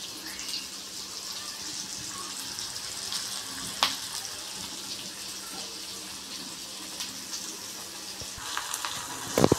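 Chopped onion frying in oil for a tempering, cooked until reddish-brown for a dried potato shreds vegetable dish, gives a steady close crackling sizzle throughout, with a few sharper pops and clinks near the end.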